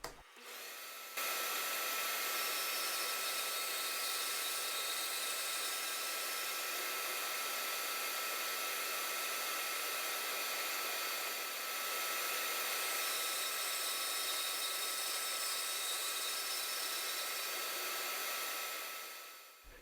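A bandsaw cuts a wooden back scratcher blank, a steady loud whirring hum that runs unbroken for the whole stretch after starting abruptly, with only slight swells in intensity.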